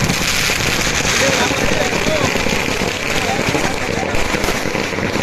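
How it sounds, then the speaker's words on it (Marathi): Dense, continuous crackling of firecrackers bursting at the Rameshwar palkhi festival in Malvan, a loud unbroken rattle of rapid pops filling the whole stretch. "तोपर्यंत जेवढे फटाके फोडले ते एन्जॉय करा."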